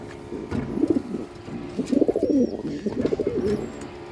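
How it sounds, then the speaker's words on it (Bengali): Pigeons of several breeds coo close by in throaty, pulsing phrases, with two longer bursts of overlapping cooing following a shorter one, and no talking over them. "অনেক পরিমাণ জাতের কবুতর।"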